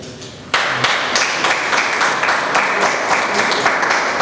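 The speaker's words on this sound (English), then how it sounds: "A round of applause." Applause from members at a Toastmasters club meeting in Bombay, starting abruptly after a brief lull and continuing as dense, steady clapping from a room of people, close and fairly loud.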